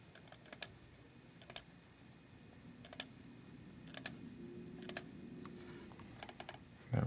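Computer keyboard typing during laser-cutter design work, with scattered key clicks and taps in short bursts over a low room hum. The keystrokes are fairly faint and close, with no voices.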